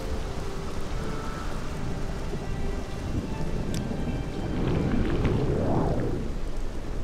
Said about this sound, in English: it's raining here as well.